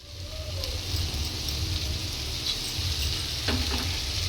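Cooked dal stirred into hot oily masala for a dhaba-style egg tadka gives a steady, close frying sizzle, with a few scraping stir strokes near the end.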